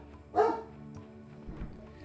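A single dog bark, fairly loud and close, followed by a fainter yip, with no talking.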